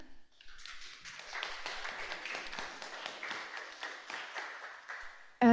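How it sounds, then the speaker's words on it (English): An audience at a panel discussion on solar-powered community water supply applauds the panelists, a sustained round of clapping from a room of people that builds quickly and holds steady before cutting off. "round of applause to them."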